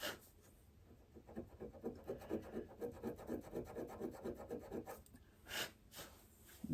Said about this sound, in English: Just gonna rub it out a little bit with this heavier grit.